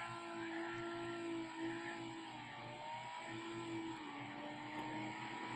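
A turbocharged car engine in BeamNG Drive at very high speed, a sustained, fairly quiet whine and drone with a steady pitch that dips slightly partway through, alone without talk.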